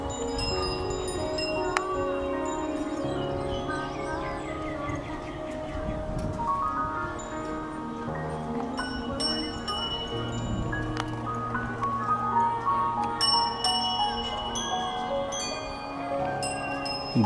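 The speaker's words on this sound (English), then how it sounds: "The wind chimes adding an extra flavor to the whole scene." Wind chimes at the Royal Pavilion in Rajapruek Park, Chiang Mai, tinkle irregularly, light and scattered, over a continuous outdoor ambience and low rumble, with no voices.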